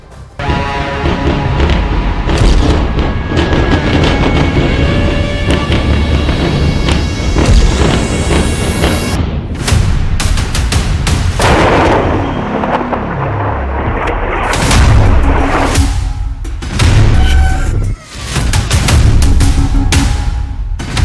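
Explosions in Beirut, Lebanon: loud booming blasts and crashing impacts, one after another over a constant roaring rumble, with sharp bursts and a rising whistle, no voices.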